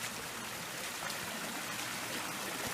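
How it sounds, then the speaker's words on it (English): A small waterfall pours steadily in a river setting, a continuous close rushing and splashing of water with no break, heard alone. "it's a lovely little waterfall"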